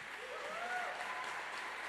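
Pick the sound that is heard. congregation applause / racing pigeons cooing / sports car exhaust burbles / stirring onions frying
congregation applause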